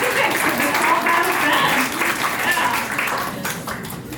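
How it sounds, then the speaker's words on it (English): Audience applause at the opening of a Design Week Calgary talk event, a steady crowd clapping with cheers and a few voices mixed in, loud at first and tapering slightly toward the end. "Give yourselves a round of applause for getting here and getting tickets"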